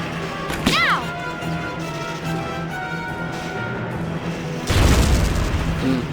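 A rifle grenade in a video game, fired with a sharp crack early on, then a heavier booming blast a few seconds later, both loud against a steady background of game noise.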